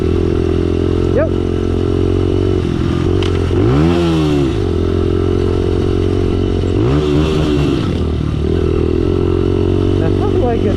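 A pit bike engine revs loudly up close in two rising-and-falling surges over a steady idle, with scraping clatter and people talking nearby.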